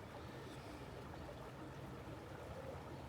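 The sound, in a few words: small waterfall, flowing water of a creek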